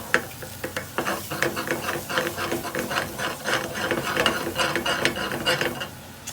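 A sauce of butter, cream and soy sauce bubbling in a pan while being stirred, close-up irregular scraping and clicking of the utensil over a steady simmering sizzle, no speech.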